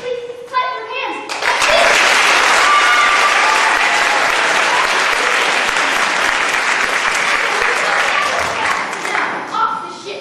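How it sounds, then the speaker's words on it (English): Audience at an evening Peter Pan stage performance erupts into loud, sustained applause after a brief moment of a voice, the clapping swelling quickly and holding steady before easing slightly at the end. "If you please, clap your hands."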